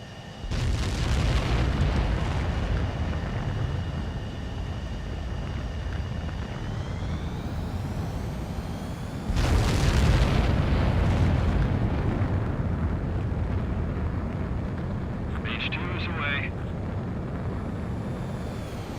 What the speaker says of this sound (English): H2, begin takeoff sequence.